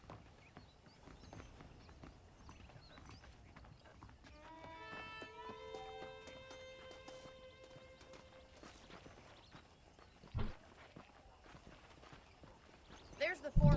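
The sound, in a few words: horse hooves clip-clopping in the video game Red Dead Redemption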